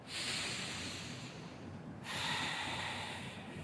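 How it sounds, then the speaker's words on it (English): Two deep breaths during a lung-health exercise routine, each a long airy inhale drawn in and then let out, close to the mic, with a brief quiet gap between them. "One more deep breath."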